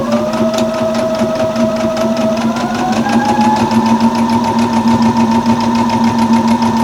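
A sewing machine stitches a barn star quilt block in a steady, fast, continuous run with a close mechanical hum, and its pitch rises slightly partway through.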